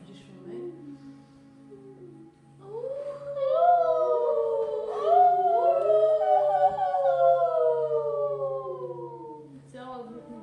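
People in a yoga class howl like dogs at the full moon, voices imitating a pack with overlapping, drawn-out rising and falling howls that swell, then fade near the end.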